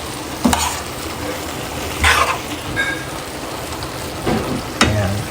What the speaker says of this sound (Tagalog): Haluin na natin siya.